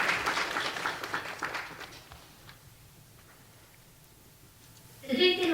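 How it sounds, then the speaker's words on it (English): An audience applauds someone speaker at a children's world peace summit. Broad clapping fills the first two seconds and fades into near quiet, then a voice starts speaking. "a big round of applause"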